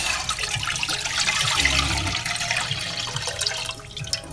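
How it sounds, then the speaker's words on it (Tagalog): Rice washing water poured into a heated pot while cooking nilagang buto-buto ng baboy, a continuous splashing and hissing that holds steady for several seconds. "Ang uunahin po natin ilalagay ay yung ating hugas bigas"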